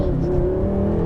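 A 2016 BMW M6 Gran Coupe pulls hard in first gear, its engine note a loud, steady rising drone with strong low harmonics, close and continuous with no talk.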